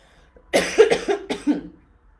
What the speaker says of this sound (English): I start to speak and I start coughing, right?